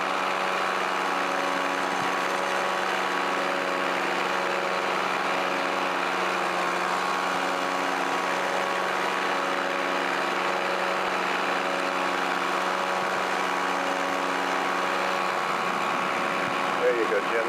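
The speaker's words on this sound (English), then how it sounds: "Come back a little bit on throttle. Try to find that cruise throttle setting." Paramotor engine droning at cruise throttle in flight, a steady close-up hum with a constant pitch that holds the whole time, while a voice talks now and then.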